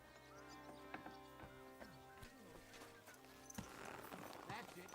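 Horse hooves clip-clop in Kingdom Come Deliverance II, a steady walking rhythm close by beneath a music bed, with a voice speaking over part of it.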